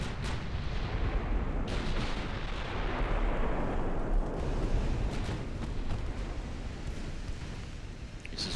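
Naval artillery booms and rumbles in Ultimate Admiral: Dreadnoughts as salvos fire one after another in a dense, continuous barrage, moderately loud with sharp cracks over a deep roll.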